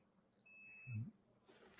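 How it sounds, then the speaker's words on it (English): A VR headset sitting on its charging dock gives off a single thin, steady electronic beep of about half a second, faint, with a short low thump around the same moment and a quiet room hum behind it. "Mine just beeped because it's charging."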